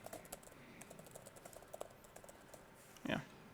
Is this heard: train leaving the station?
no